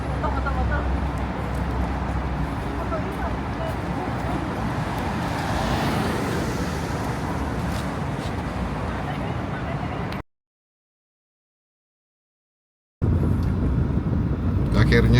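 Steady road rumble and traffic noise from inside a taxi moving through Hong Kong streets, a continuous broadband hum that cuts out into silence for a few seconds before resuming.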